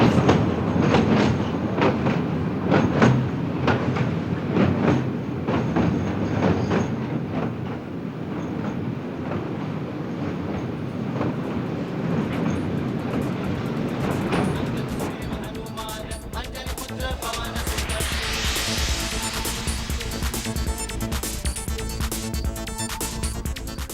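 Train lurching and creaking as it rolls slowly from land onto a ferry, with heavy grinding and rhythmic wheel clatter that gives way to higher metallic squeals and rattling.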